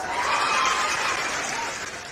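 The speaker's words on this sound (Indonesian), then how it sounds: "Tepuk tangan buat saya." Short, dense wash of crowd applause with a few chuckles mixed in, steady and fairly loud for about two seconds before tapering slightly.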